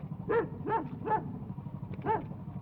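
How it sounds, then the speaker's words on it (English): A dog gives four short, yipping barks at an uneven rhythm in a 1969 animated children's programme, moderately close over a low background rumble. "Then there was a different bark from a different dog."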